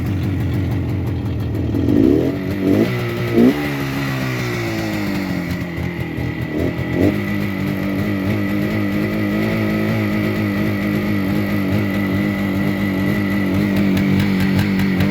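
A 1972 Suzuki T500 Titan two-stroke street bike engine runs close by, starting with a few uneven revs and blips, then settling into a steady, slightly rough idle.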